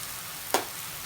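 Ground beef and onions cook in a pan with a soft, continuous sizzle and one brief sharp pop partway through, close and alone.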